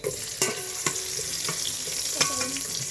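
Sliced onions sizzling and frying in a hot pan, a loud steady hiss broken by a few sharp scrapes and clacks as they are stirred up close.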